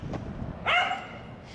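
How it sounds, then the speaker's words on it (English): A single dog bark, bright and fairly close, rings out briefly over a quiet, slightly noisy background near the middle of a short stretch. "Some beautiful dogs."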